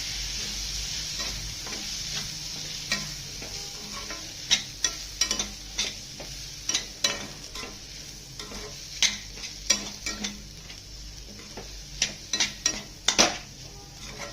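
Red chilli powder and garam masala being sautéed for dried bombil masala, with a continuous hiss of frying and frequent sharp spoon scrapes and clinks against the pan.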